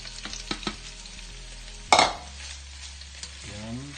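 Pork and onion frying in a pan, a soft continuous sizzle broken by a few clinks and scrapes of stirring, with one sharp louder hit midway, fairly quiet and with no talking.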